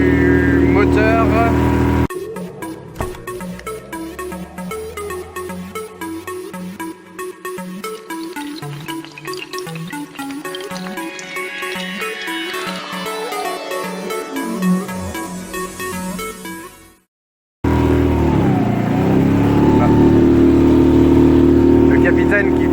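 A motorboat engine drones throughout, its pitch shifting as it revs and slows, with a brief gap near the end before the engine noise resumes.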